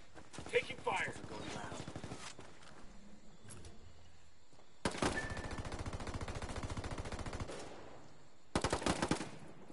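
Gunfire from the video game Ghost Recon crackles in long rapid automatic bursts, with one burst early, a sustained stretch mid-clip and another short volley at the end, close and loud, with voices talking in between.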